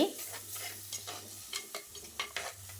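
Spice paste sautéing in a pan for a white pea vegetable kulambu: soft continuous sizzling with a spoon scraping and stirring in repeated short strokes, close but fairly quiet, no talk.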